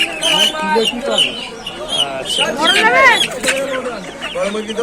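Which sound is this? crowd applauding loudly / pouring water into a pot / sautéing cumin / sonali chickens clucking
sonali chickens clucking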